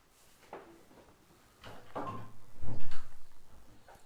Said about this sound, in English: Crack that open, that door, so we get some air.